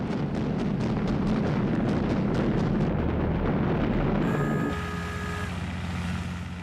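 Explosions from US bombers attacking Japanese aircraft carriers at sea: a dense, continuous rumbling roar of blasts and engines, loud and sustained before easing into a steadier drone with a faint tonal whine.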